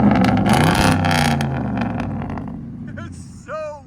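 A 2006 RAM 1500 pickup with a 5.7-liter HEMI V8 and true dual straight pipes revs loudly at close range, its deep roar swelling and then easing off, with a voice speaking briefly near the end.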